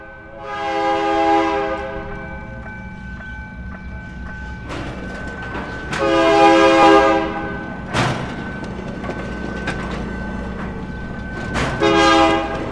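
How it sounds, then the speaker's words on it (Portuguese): Loud train horn blasts repeat over the heavy rumble and clatter of a passing train, close by, with thuds between the blasts. "na hora que ele solta o freio, o trem parece que vai tombar em cima da casa"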